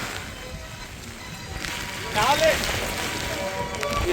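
Rain falls in Vietnam as a steady broadband hiss that grows louder after about two seconds, with faint voices in the background.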